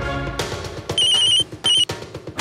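A telephone rings in two short electronic bursts over background music, clear and close.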